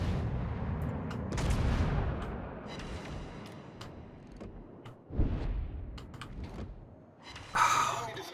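Heavy warship guns in World of Warships boom in separate deep salvos spaced a few seconds apart, each followed by a rumbling decay, with a sharper blast near the end.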